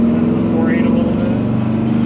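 A 1972 GMC 1500 resto-mod truck with an LS V8 drones steadily as it accelerates and shifts smoothly on a road test, a continuous engine hum heard from inside the cab under conversation.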